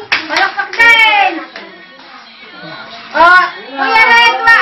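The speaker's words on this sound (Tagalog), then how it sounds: "Palakpak din." A few people clap their hands for a dancing child. Short bursts of loud, close claps come between bits of nearby talk and a voice.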